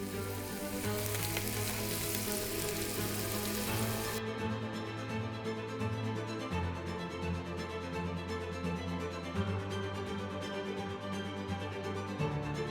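Salmon searing in melted butter in a pan gives a loud, steady sizzle and crackle that never lets up, with no talking.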